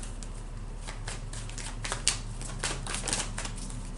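Tarot cards are shuffled in a steady flurry of crisp riffling and slapping, close and continuous over a low background hum, with no talking.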